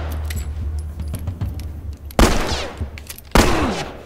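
Gunfire from The Last of Us: two loud, sharp shots ring out about a second apart, each with a brief echoing tail, over quieter rattles and ambient game noise.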